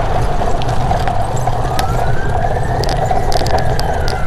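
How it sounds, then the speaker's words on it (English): Emergency vehicle sirens sound at night in Kinston, with one faint distant wail slowly rising and falling beneath loud, steady traffic and street rumble. "There fucking sirens everywhere."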